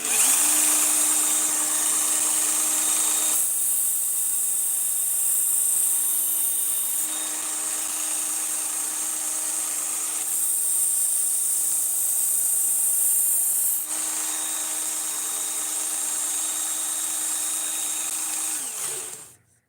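A knife blade grinding on a Work Sharp powered sharpener: a steady high-pitched motor whine with a bright abrasive hiss that shifts in three passes, running loud and close throughout before cutting off at the end.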